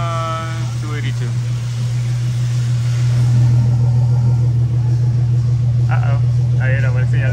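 A nitrous Mustang V6 rumbles on a dyno with a steady low engine drone that swells midway, while people talk over it nearby.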